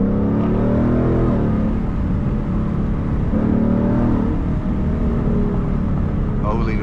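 A loud car exhaust drones steadily throughout a night drive with the windows down, a continuous low rumble with slight revs rising and falling, while people talk over it.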